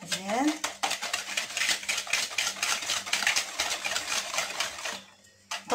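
Cake batter with sugar is beaten by hand in a bowl. Utensil strokes scrape and tap against the bowl in a fast, steady rhythm that stops abruptly near the end, close and clear, with no talking.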